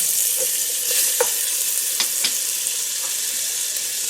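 Chicken pieces browning in butter in a pot give a loud, bright continuous sizzle, broken by a few sharp spatters and scraping stirs.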